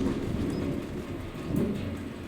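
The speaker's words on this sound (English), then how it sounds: "Yeah, that thunderstorm's going now." Thunderstorm rumbling in a Pikmin 4 game soundscape, a steady low roar with rain-like hiss that swells again near the end, no talking.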